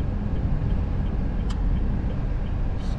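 Honda Brio hatchback rolling at low speed with a steady engine and road rumble, no distinct gear-change sound, one brief click partway through.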